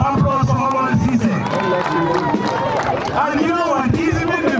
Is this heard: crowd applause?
yes